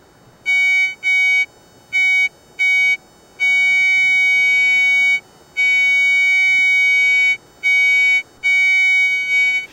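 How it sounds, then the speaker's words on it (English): A Garrett Sea Hunter Mark II metal detector beeps in uneven bursts, some short and some long, a steady high tone pulsing on and off over faint background hiss. "As he sweeps, note how the volume of the audio fluctuates."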